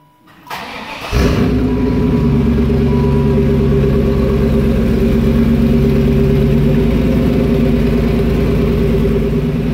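A Buick wagon fitted with Dodge 392 mufflers and side pipes cranks over and fires up for its first start, then settles into a loud, steady, rumbling idle close by.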